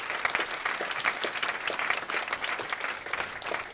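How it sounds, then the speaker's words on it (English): An audience gives sustained applause as a speaker is welcomed to the stage for a talk on building with data, many hands clapping in a busy, even wash that continues throughout. "Round of applause."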